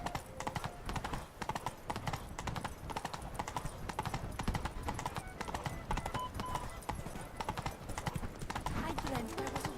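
Hooves of Roach, Geralt's horse in The Witcher 3 set in Toussaint, clip-clopping in a steady trotting rhythm throughout, with game speech and ambience over it.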